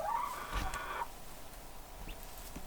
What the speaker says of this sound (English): There's my one rooster.